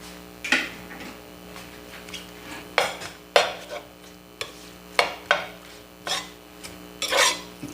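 Egg being stirred into kangkong in a pan: a spoon scrapes and clanks against the metal again and again in uneven strokes, close and clear with a soft sizzle underneath.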